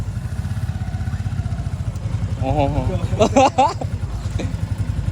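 A motorcycle engine idles with a steady low chugging throb throughout while a person speaks briefly over it and lets out an exclamation.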